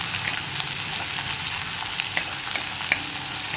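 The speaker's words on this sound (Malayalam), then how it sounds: "സവോളയൊക്കെ ഒന്ന് സോഫ്റ്റായി വരുന്ന രീതിയിൽ ഒന്ന് വഴറ്റിയെടുക്കുക" Onions sautéing in a pan until soft, a continuous moderate sizzle with light intermittent stirring clicks and scrapes, no talking.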